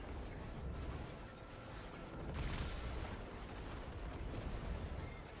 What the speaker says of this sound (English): for some reason the mine explosion stagger you